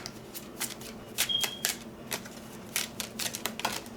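Tarot cards shuffled and laid out on a table, quick papery riffles and soft slaps in irregular bursts, close and moderately loud, with no speech.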